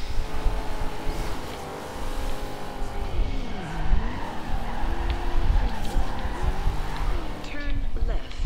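A Dodge Charger General Lee races in the Forza Horizon 2 video game, its engine roaring continuously while the tires squeal and skid in repeated sweeping bursts through turns.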